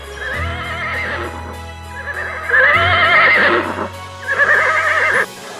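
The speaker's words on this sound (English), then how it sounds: "Horse sound neigh." Horse whinnying in three long, wavering neighs, loud and close, with a brief pause between each and no voices over them.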